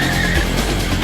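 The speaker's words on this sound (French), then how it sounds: "Les deux voitures accélèrent jusqu'à 120 km/h." Two cars accelerate hard toward 120 km/h, a loud, close engine roar with a rising whine and tire noise across a short burst.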